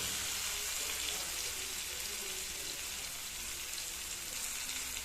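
Ghugni frying in a pan after water is added, a steady, close hiss and sizzle that stays even throughout, with a voice faintly beneath it.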